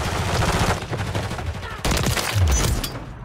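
Gunfire in Call of Duty MW3 (2023) on the Stash House map, with a steady rattle of shots under game noise and a sharper, louder burst near the end.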